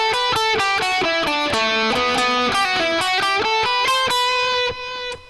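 Electric guitar plays a quick phrase from the outro solo, a rhythmic run of distinct picked and pulled-off notes, loud and up close, ending abruptly with no talking.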